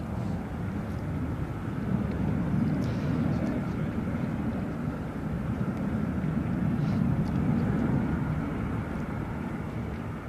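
A British airliner sits at an airport in 1974, its engines giving a steady, broadband roar that stays constant for the whole stretch and sounds fairly close.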